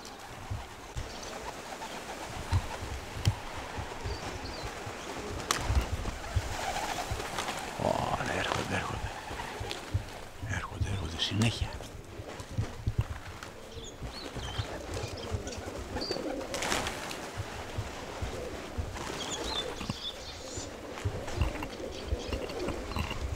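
Racing pigeons arrive at a loft during a race, with repeated soft cooing and wing flutters amid light outdoor bustle and occasional faint voices.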